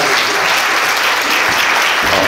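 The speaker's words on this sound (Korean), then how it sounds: "1부 카이정 연사님을 뜨거운 박수로" Hands clap in steady, loud applause from an audience welcoming a speaker at a seminar on hairdressing careers, a dense continuous roar with no voices over it.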